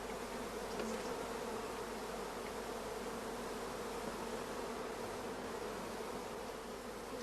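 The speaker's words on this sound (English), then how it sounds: "in the queenless starter colony, we can hear the loud buzzing of the orphan bees" Honey bees in a queenless starter colony hum loudly and steadily, a dense, unbroken buzz of many insects close by with no pauses and no voices.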